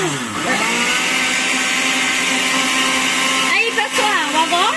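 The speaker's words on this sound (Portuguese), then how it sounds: "Vou parar o liquidificador." Kitchen blender whirring steadily as it mixes a homemade aloe vera hair conditioner, loud and continuous with a brief shift in pitch near the end.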